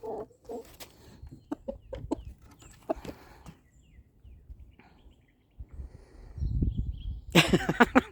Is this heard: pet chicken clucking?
yes